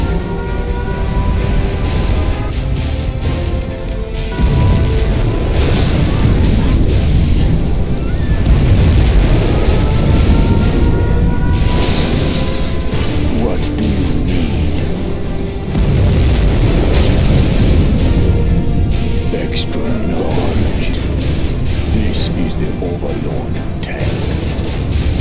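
Nuclear missile strikes in Command & Conquer: Generals set off a long, loud, rumbling barrage of deep booms and blasts that builds and swells in waves, with game sounds and occasional voices mixed in.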